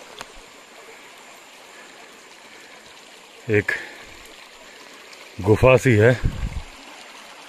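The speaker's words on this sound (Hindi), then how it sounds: "नीचे पानी बह रहा है।" A stream flows below among large boulders in a dense jungle, making a faint, steady trickle throughout, while someone speaks over it in two short bursts.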